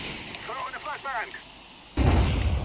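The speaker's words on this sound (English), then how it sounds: "flashbang" A flashbang grenade goes off in a video game, a sudden loud, broad blast that arrives after a stretch of faint game ambience and brief whistling tones.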